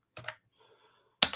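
Short bursts of computer keyboard typing, one cluster of quick clicks near the start and another sharper one at the end, with a faint low murmur in between.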